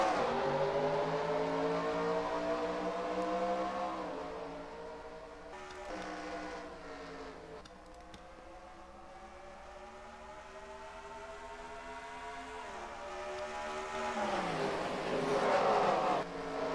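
Stock cars race at Richmond in the NR2003 video game, Target Series Toyota 250: a loud, continuous engine drone with pitch that repeatedly climbs and falls as the cars accelerate and ease off, with no voices.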